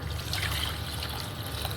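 Rinse water drains steadily from idli rava, the semolina being washed in a bowl for Rayalaseema-style idli. The trickle is close and continuous, with a soft, even splashing and no pauses.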